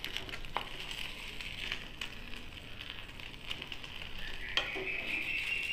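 Sweet bread toast fries in butter on an iron tawa, a soft continuous sizzle with scraping and tapping as the slices are stirred and flipped, close and fairly quiet.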